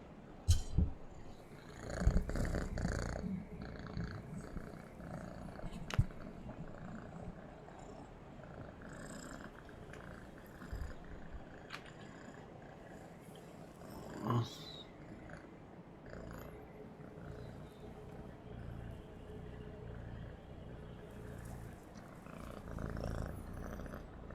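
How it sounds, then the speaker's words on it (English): A cat purrs in a quiet room, a soft continuous rumbling close to the microphone, broken by a few louder rustles and bumps. "Oh, he's purring so loud."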